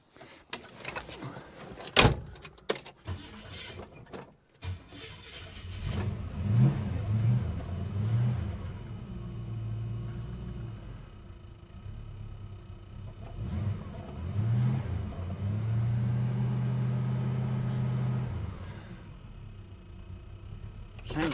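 A Holden HK car after a spark plug change: a few clunks and knocks, then the engine cranks and catches, settling into a steady idle with a slight uneven pulse, heard at close range.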